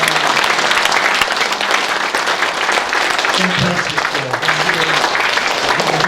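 Large symposium audience applauding loudly and steadily for visiting chapter leaders, a dense, continuous roar of clapping filling the hall, with a voice speaking over it partway through.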